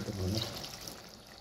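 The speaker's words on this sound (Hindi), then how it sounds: "थोड़ा सा पानी ऐड कर दूँगा" Water pours steadily into a pot of simmering vegetable and egg curry with potatoes, cauliflower and onion, a soft continuous trickle close by that gradually tapers off.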